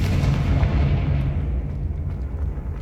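In the Hogwarts Legacy video game, a Confringo spell explodes with a deep rumbling boom that rolls on for a couple of seconds and slowly fades.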